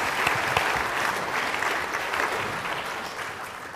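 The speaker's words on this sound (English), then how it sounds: "Round of applause again for this lot" A lecture audience at the 2013 Cockcroft Rutherford Lecture gives a group a round of applause, a steady, full wash of clapping that fades slightly toward the end.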